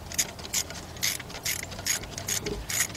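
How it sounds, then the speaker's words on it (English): A ratchet with a locked-on socket loosening a bolt during valve cover work on a 2012 Ford F-150 3.5 engine, about seven crisp rapid clicking bursts in a steady back-and-forth rhythm, close up with no talking. "So you wanna make sure you have a ratchet and a socket that's locked into place that's not gonna come off"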